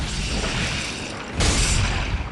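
A corpse explosion spell in a video game: a dense, roaring burst of rumbling explosions and crashing debris swells midway and keeps churning, loud and close, with no voices.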